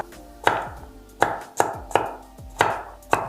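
A knife roughly chops onion and other vegetables for a cauliflower and Brazil nut soup. There are six crisp, close chops on a board, spaced unevenly, with quiet pauses between them.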